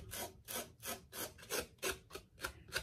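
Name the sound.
hand rubbing beard stubble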